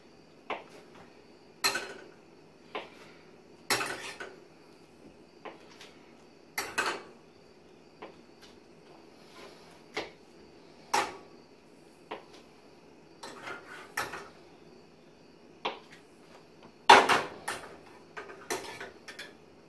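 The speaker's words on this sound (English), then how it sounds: "chop up the butter and get the pan warming up" A knife chops a block of butter on a board in a home kitchen while a pan warms on a stove, giving sparse, irregular sharp taps and clicks over a quiet background, with no talking.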